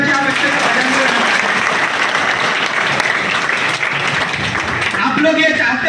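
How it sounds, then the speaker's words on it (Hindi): An indoor audience claps loudly and steadily for several seconds, a dense, continuous wave of applause with crowd noise mixed in. "एक बार ताली अच्छे से बजना चाहिए।"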